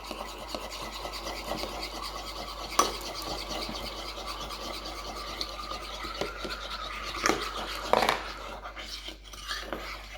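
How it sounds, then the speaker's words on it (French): Eggs, sugar and milk whisked together in a bowl for gluten-free French toast, a steady quiet scraping and stirring rattle with a few sharper clinks against the bowl, close and continuous. "on va mélanger nos œufs et notre sucre et on va rajouter notre lait"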